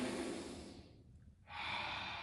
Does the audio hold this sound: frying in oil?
no